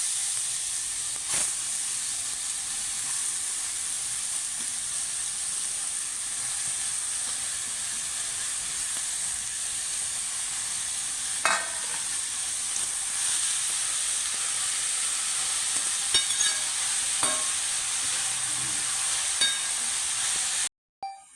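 Grated bottle gourd fries in a pan, a soft, even hiss of sizzling throughout with a few sparse clicks and scrapes from stirring and no talking, ending in an abrupt cut.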